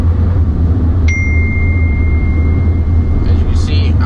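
A single bright notification ding, an incoming-message alert from Apple CarPlay in a 2016 Volkswagen Jetta SE TSI, rings out and sustains for about a second over the steady low rumble of the car's cabin, with a few faint chirps afterward.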